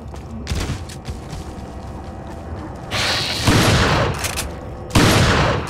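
Gunfire in the Resident Evil 4 HD video game: loud, close bursts of shots with hard attacks and mechanical clatter, over a dense, continuous game soundscape.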